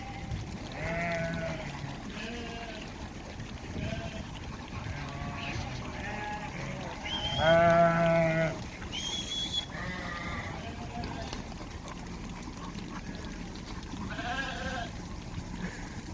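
Sheep bleat in short, repeated calls, several animals crowding around a parked car near the Nürburgring, some close and loud, others fainter, over a steady low background hum.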